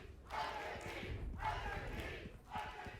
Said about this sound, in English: And the crowd once again comes to life.